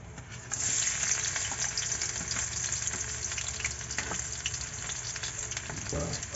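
Garlic frying in hot cooking oil gives a steady, dense sizzle and crackle close up, starting suddenly as it goes into the pan and continuing without pause, with a few stirring scrapes.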